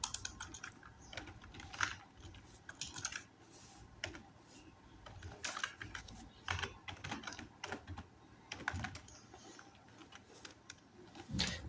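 Close, quiet typing of Python code on a computer keyboard, a steady stream of quick key clicks with a few heavier taps and brief pauses.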